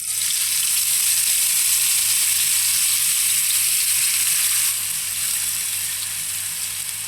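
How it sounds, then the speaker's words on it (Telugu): Raw onion paste fries in hot oil for an Andhra fish curry, giving a loud, continuous close-up sizzle that holds steady throughout, with no talking. "ఇప్పుడు దీన్ని ఆయిల్లో ఇలా వేసుకుంటాం."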